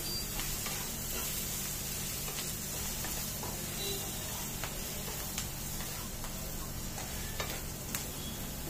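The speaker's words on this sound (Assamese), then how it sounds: "এয়া মই গোটেইখিনি ভালদৰে লৰাই দিলো" Red chili pickle masala frying in oil while being stirred, a steady close sizzle and hiss with occasional scraping clicks of the spoon, continuous throughout without talk.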